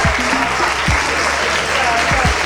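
Audience applause at a fashion show runway event in Legnago, a dense continuous clapping that stays steady throughout, with voices and scattered thumps mixed in.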